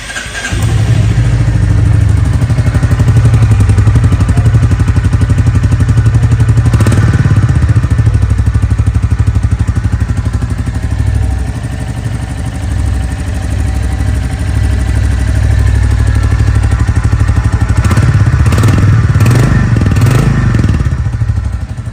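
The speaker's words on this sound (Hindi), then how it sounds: "इस बाइक का साउंड सुनाता हूँ जिसके सब दीवाने हैं।" A Royal Enfield Bullet 350 motorcycle with a rear drum brake runs steadily up close, its deep, loud thumping exhaust beat continuous throughout, with a few brief revs near the end.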